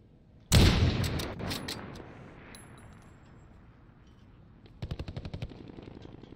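Call of Duty gunfire, M4 rifle in a Halloween match: a loud sharp blast opens with rapid shots and echoing tail, then a later burst of quick automatic fire, no voices.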